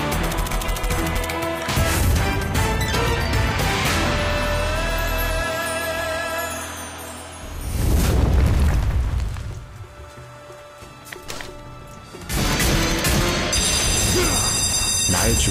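Booming cannon fire and explosions from the Yi Sun Shin slot game by Pragmatic Play, with heavy blasts and crashing bursts set against game music and dramatic Korean voice lines.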